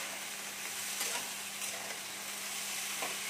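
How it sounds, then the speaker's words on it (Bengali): Vegetable stems, pointed gourd and eggplant fry in a pan with a continuous hiss, broken by a few soft stirring scrapes. "আর এখানে ডাঁটা, পটল আর বেগুন যে কাটা আছে আমি সেগুলো দিয়ে দিচ্ছি। এটা একটু নেড়ে নেবো ভালো করে।"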